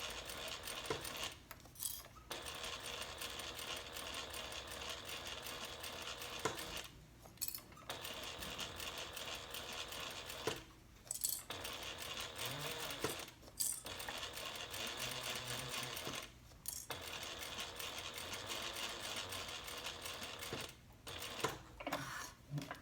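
A sewing machine stitching a seam on a handbag slip pocket, running in long rapid bursts broken by short pauses at the pivots, loud and close with no talk.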